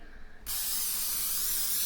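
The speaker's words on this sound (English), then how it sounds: "your 13 by 9 inch pan with any kind of cooking spray" After a brief quiet moment, an aerosol cooking spray sprays into a 13 by 9 inch pan in one continuous, bright hiss that carries on steadily to the end.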